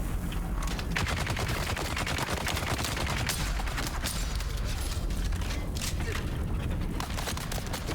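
Sustained heavy gunfire from a heavy gunner in the video game Dune: Awakening, a dense continuous rattle of rapid shots filling the whole stretch at steady loudness.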